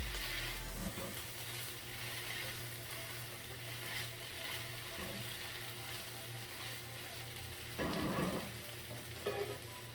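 Chicken and noodles sizzling in a pan as they toast, a quiet steady frying hiss with a low hum, and brief louder bursts of sizzle as the food shifts.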